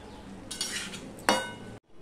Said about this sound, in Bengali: এবার আমি কড়াইটা খালি করে নেব।